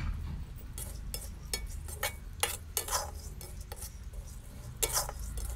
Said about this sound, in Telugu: సో ఇక్కడ మినపప్పు ఫ్రై చేస్తున్నాను, వేయించుకోవాలన్నమాట